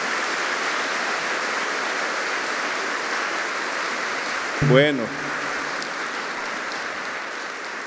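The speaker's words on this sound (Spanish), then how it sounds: "Denle un aplauso a la misericordia de Dios." Church congregation applause on Divine Mercy feast day, a thick continuous wash of many hands clapping that fills the space, with someone briefly speaking over it before it carries on.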